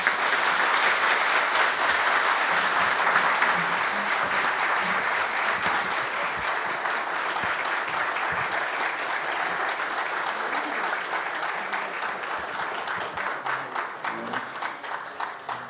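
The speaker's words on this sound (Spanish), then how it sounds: "Con ese fuerte aplauso de los presentes" At a book presentation launching a fourth edition, the audience gives a strong, sustained round of applause. Dense and steady clapping runs for about sixteen seconds, easing slightly toward the end.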